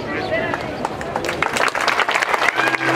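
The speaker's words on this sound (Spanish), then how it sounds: "El aplauso para este tepatitlense que nos llena de orgullo" A crowd applauds steadily at a formal town council session, dense clapping filling the space with a voice speaking over it.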